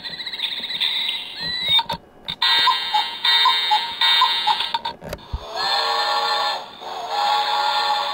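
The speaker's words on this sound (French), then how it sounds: "En plus du mode silencieux, 3 choix d'alarme sont possibles." A Kid'Sleep Clock children's alarm clock plays several electronic alarm melodies in turn, bright beeping and warbling tones separated by short breaks, loud and close with no voices.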